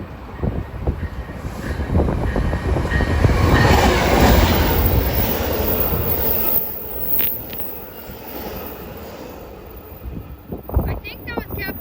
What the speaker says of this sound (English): we have an outbound Metro Express to Antioch about to come through